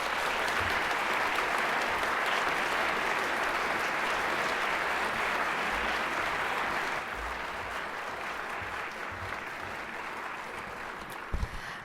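An audience at a student awards event applauds at length, a loud, dense wash of many hands clapping that eases a little midway and continues steadily, with a couple of sharp knocks near the end.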